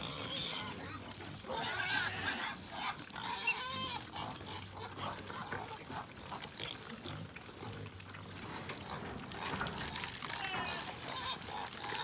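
Pigs grunt and squeal continuously at feeding time on a small farm, overlapping with trickling water and some background voices throughout.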